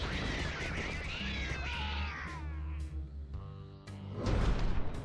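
Cat meowing in American McGee's Grimm, Adventures of Thumbling: several drawn-out, wavering meows and a caterwaul over a low game backdrop, then a soft swoosh.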